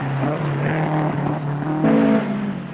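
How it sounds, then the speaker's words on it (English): Mercedes 450 rally car at the 1979 Safari Rally in Nairobi, engine droning loudly and steadily as it takes a jump, with pitch shifting and a rise in revs near the end. "The first of the jumps, Preston Jr. and John Lyle, Mercedes 450."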